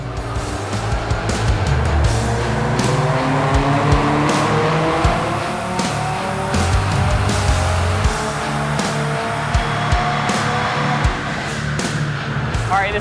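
A Subaru STI daily driver tuned toward 500 wheel horsepower, running 29 psi of boost on E fuel, makes a dyno pull: loud, close, sustained engine roar climbing steadily in pitch for the whole stretch, with no talk.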